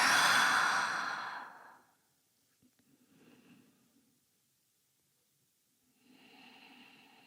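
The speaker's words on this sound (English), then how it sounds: "Big breath out." A deep, audible exhale during a yoga flow, a long breathy rush that fades out, followed by quieter soft breaths and a second gentle exhale after a pause.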